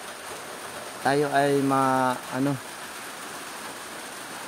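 Rain falls steadily over a farm at midday, a continuous soft hiss throughout, briefly overlaid by a short spoken phrase near the middle.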